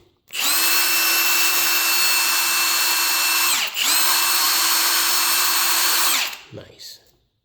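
A Milwaukee M18 FUEL 1/2-inch high-torque impact driver runs at a constant high whine in its fourth, drill mode, cuts out for a moment, then resumes and stops, followed by a faint click.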